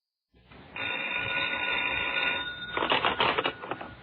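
A payphone bell rings with a continuous metallic trill, followed by a burst of faster, rattling rings, fairly close and clear on an old radio broadcast.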